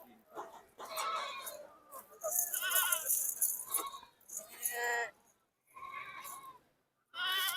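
Dairy goats at a goat market in Sahiwal, Pakistan, bleat loudly and close by in several separate calls, with a chicken clucking and people talking in between.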